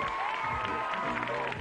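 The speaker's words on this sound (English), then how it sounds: "Give him a big round of applause" A crowd claps and cheers together in a steady, dense wash of noise that lasts the whole moment.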